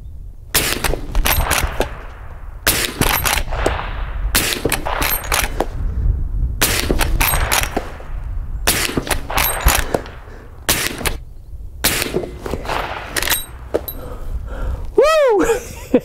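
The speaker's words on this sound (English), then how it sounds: "Just love running this lever action Marlin 1895 SBL 4570." A Marlin 1895 SBL lever-action rifle in .45-70 fires repeatedly outdoors, each loud, sharp blast followed by a short ringing tail and the quick clack of the lever cycling between shots.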